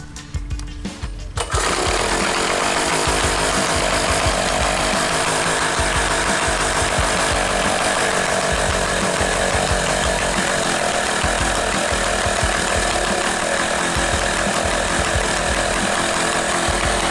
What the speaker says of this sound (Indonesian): akan saya review terlebih dahulu suara asli dari mesin genset ini